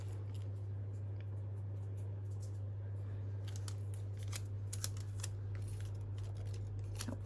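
Scissors snip through 12-inch scrapbook paper during junk journal crafting, a run of short crisp cuts clustered toward the end over a steady low electrical hum.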